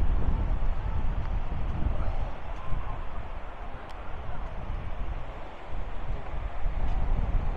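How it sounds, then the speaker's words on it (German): Steady wind gusting across the beach at Playa del Ingles, Gran Canaria, with a rough sea, a broad continuous roar that swells and eases slightly throughout, loud and close to the microphone, with no voices. "das Meer ist doch wesentlich unruhiger wie heute Morgen durch den Wind, ganz klar."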